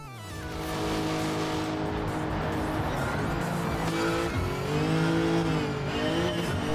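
Race car in Gran Turismo 7 with a swapped engine, revving hard and shifting through gears with rising and falling engine tones and some tire squeal, loud and continuous.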